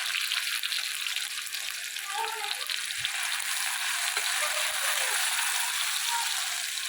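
Tomatoes frying in hot oil in a pan for a tomato amti, a steady, bright, hissing sizzle that stays even and close the whole time, with a few soft knocks mixed in.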